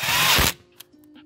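A power tool whirs in one short, loud burst while driving bolts into an aluminum engine block on a 2012 car during camshaft actuator solenoid work, then stops abruptly, leaving faint clicks and handling noises.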